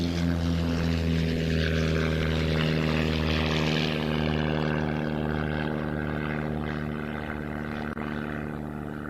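An Ultimate Warbird Flight RV-7 propeller plane taking off at the Royal International Air Tattoo, its engine drone loud and steady with a throbbing prop buzz that slowly fades as it climbs away.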